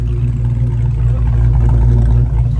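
A cammed car engine with an exhaust idles loudly and close, a deep, steady rumble with a faintly lumpy, pulsing rhythm throughout the short stretch.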